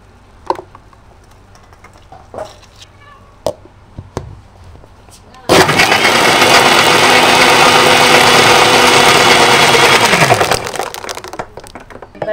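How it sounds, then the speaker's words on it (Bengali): An electric blender whirs loudly for about five seconds, mixing cold coffee with milk, sugar, coffee powder and ice cubes, after scattered clinks and knocks of ice being added, then winds down to quiet. "এটাকে আমি ব্লেন্ড করে নিলাম সব একসাথে"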